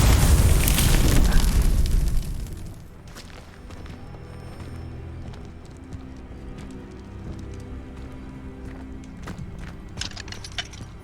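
Confringo fire spell exploding in Hogwarts Legacy on PC, a loud close boom for about two seconds that fades into crackling and scattered debris sounds, with no talk.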